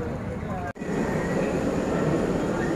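Hong Kong metro train, a loud, steady rumble with a sharp momentary dropout early on, then an even roar continuing to the end.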